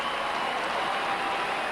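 Footballers applaud the fans at Subiaco Oval in 1995 after a Fremantle win over Fitzroy. The crowd sound is a steady, even wash of clapping with no breaks.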